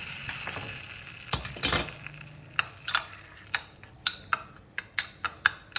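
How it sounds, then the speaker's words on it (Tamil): A spoon stirs a mustard seed and curry leaf tempering into homemade jamun chutney, giving a swishing scrape followed by a run of sharp, evenly spaced clinks against the vessel, close and clear with no talk. "இதை இந்த சட்னியில் போட்டு கிண்ட வேண்டும்"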